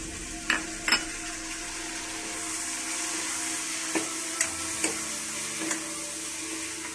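Ginger, garlic and black pepper fry in a pan with a continuous loud hiss, punctuated by several sharp knocks and scrapes of a stirring utensil, close and without talk.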